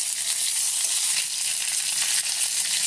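Curry leaves hit hot oil already tempered with cinnamon, cloves and dried red chillies, giving a loud, steady, close crackling sizzle that continues without a break.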